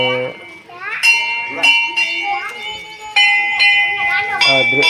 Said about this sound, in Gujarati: આ ઝાલર છે